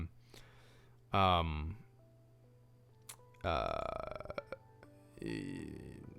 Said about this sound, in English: did I really just burp on a live stream?